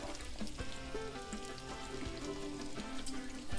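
Bacon frying slowly in a pan, a faint, steady sizzle with light crackles and pops running throughout, no voices.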